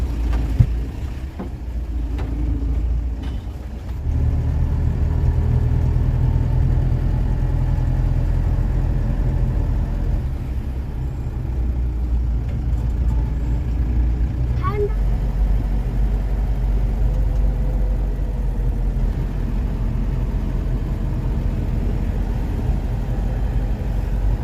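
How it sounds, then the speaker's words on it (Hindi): A jeep engine hums low and steady on a night drive through the Thirunelli forest in Wayanad. The drone is close and continuous, and a person talks over it. "so this is our jeep and we are going"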